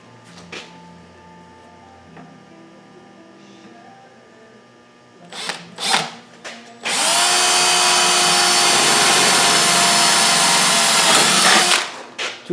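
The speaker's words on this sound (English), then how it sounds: "let's go put a hole in the oil pan" A power drill bores a hole through the oil pan of an LS-swapped Mazda B2200 pickup, a steady loud whine running about five seconds after a few short trigger bursts, with quiet workshop handling noises before it.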